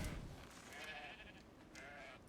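Sheep bleat in the video game Ark, a faint, wavering series of bleats over a low rumbling game background.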